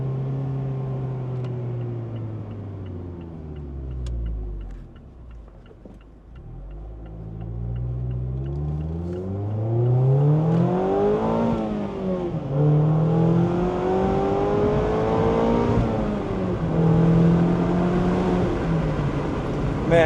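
Mazda Miata engine heard from inside the car while driving, a low drone that drops as the car slows, then climbs and falls again through gear changes, steady and fairly loud throughout.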